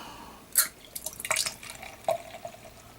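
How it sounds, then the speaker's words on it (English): Homebrewed red ale splashes and trickles into a glass in irregular bursts, close and fairly quiet, with occasional drips. "here is the pour on my red ale"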